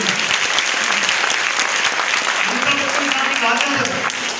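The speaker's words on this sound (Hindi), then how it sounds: "ताली थोड़ी जोरदार वाली चाहिए, ढीली वाली।" Strong, dense applause from an audience in a college seminar hall on marketing fills the whole stretch, steady and loud with some crowd noise mixed in.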